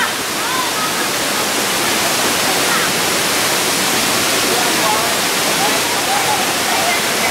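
A spring-fed waterfall roars close by in a steady, dense rush of falling water that stays loud and unchanging throughout.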